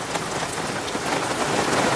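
Heavy rain pours down during a big thunderstorm at a beach campsite, a dense, loud, steady hiss of drops drumming on surfaces with no talk.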